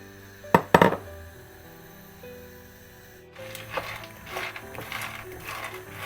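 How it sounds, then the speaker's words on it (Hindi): Raw peanuts dry-roasting in a hot pan over low heat and stirred steadily with a spoon: two sharp metallic clinks come first, then a soft continuous scraping rattle as the nuts are moved around, with no talking. "चम्मच हमने बराबर चलाते जाना है इनको, आहिस्ता आहिस्ता हल्की आंच पे इस तरह।"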